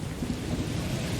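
Heavy rain falling with rolling thunder, a steady dense hiss over a deep rumbling low end, continuous and close, with no voices.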